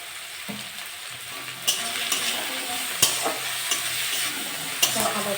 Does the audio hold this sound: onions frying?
yes